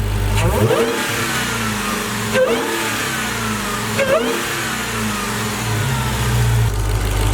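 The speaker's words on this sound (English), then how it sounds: "she's gonna go ahead and rev the car" Dodge Charger Hellcat Widebody with stock intake revved by a driver, loud deep idle broken by three sharp throttle blips that rise and fall, close and alone.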